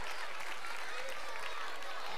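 Audience clapping at a magic gala, a dense, steady wash of applause from a crowd that fills the whole moment, close and loud, with voices mixed in.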